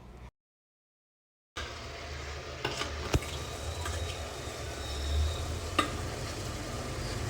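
Mutton with spices fries in a pan, a steady low sizzle running throughout after a brief silent gap near the start, with a few sharp clicks and scrapes of a utensil against the pan.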